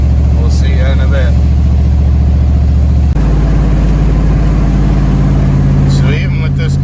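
A GMC truck with a cammed 8.1 Vortec engine and an exhaust leak, hauling about 15,000 lbs, drones loudly and steadily up close, its low rumble shifting pitch partway through.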